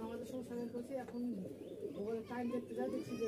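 Pakistani Teddy pigeons coo in soft, repeated low warbles close by, partly under a person speaking.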